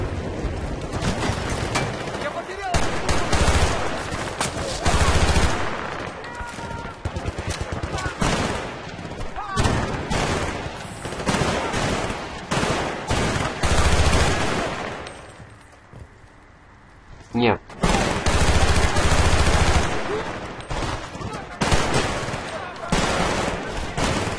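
Sustained gunfire in the video game Battlefield Bad Company 2, dense bursts and automatic fire nearly throughout, loud and close, with a brief quieter lull partway through and a voice talking over it.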